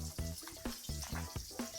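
Breakfast food frying in a pan on a two-burner propane stove at a campsite, a steady close sizzle with quick rhythmic scraping or stirring strokes repeating several times.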